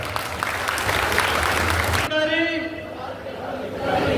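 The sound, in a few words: applause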